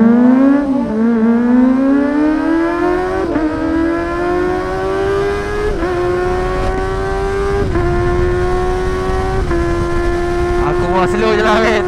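Kawasaki ZX25R motorcycle ridden at night at an easy pace: a high, buzzing four-cylinder whine climbs steadily through each gear, with several brief dips at the shifts.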